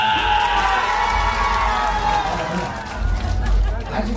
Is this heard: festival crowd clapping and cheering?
yes